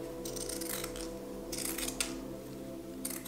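Scissors snip through fabric layers while cutting out a sewn oven mitt, a few crisp, close cutting bursts with short pauses between them, heard alone.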